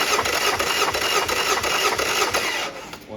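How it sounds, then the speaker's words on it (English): A Yamaha 50HP outboard engine cranks over steadily on cylinder one during a compression test, a loud, continuous churning with a regular pulsing rhythm that winds down near the end. "we're gonna run this compression test. This is cylinder number 1."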